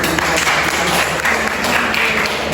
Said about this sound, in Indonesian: Oke, terima kasih tepuk tangan untuk